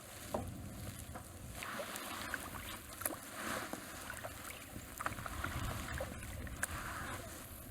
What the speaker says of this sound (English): This wind is pushing me around.